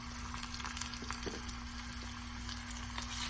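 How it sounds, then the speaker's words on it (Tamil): Shallot, curry leaves, chillies and fenugreek sizzle in hot oil as a tempering for fenugreek sprout sambar, giving a steady, close frying hiss with faint crackles throughout. "ஒரு சின்ன வெங்காயம், தேவையான அளவு கருவேப்பிலை சேர்த்து நல்லா வதக்கி விட்டுடலாம்."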